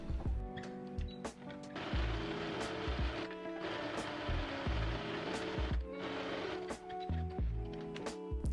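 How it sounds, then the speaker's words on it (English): A sewing machine set to its longest straight stitch runs in close, steady bursts while sewing a dress, its motor whirring and the needle ticking in quick mechanical rhythm with short pauses between runs. "just going to put your machine on the longest straight stitch you have and just get to sewing"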